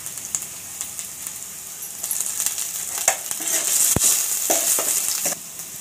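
Ginger and garlic hit hot oil in a pan, giving a steady frying sizzle with occasional stirring scrapes and clinks, moderately close and alone without talk.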